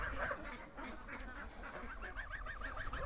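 A small black duck calls repeatedly among waterfowl, honking goose-like notes overlapping in a steady chattering stream, fairly close and clear with no talking.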